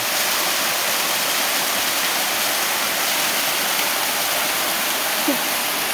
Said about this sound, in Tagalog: Ito ang Lupao Falls, Tale Falls, ay Pinggan Falls.